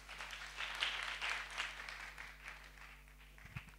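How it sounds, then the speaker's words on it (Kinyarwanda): A church congregation applauds in a brief burst of clapping that swells and then fades. The clapping sounds somewhat distant, over a steady low electrical hum. "Dukomere Imana amashyi"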